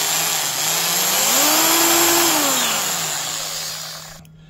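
A 1970s Craftsman 3/8-inch variable-speed electric drill whines close by, its motor pitch rising, holding, then falling back down before it stops.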